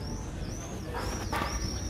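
Pigeons coo steadily while being fed, a soft continuous murmur of birds close by against a busy outdoor background.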